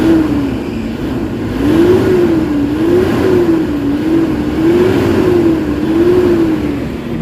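A Toyota Hilux engine, just repaired after low power, throttle delay and a non-working turbo, revs up and down in steady, rising and falling surges. The loud, close engine note carries throughout with no talk over it.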